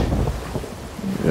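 Sea of Thieves storm weather: a low, sustained thunder rumble mixed with rain noise, moderately loud, continuing throughout with no speech.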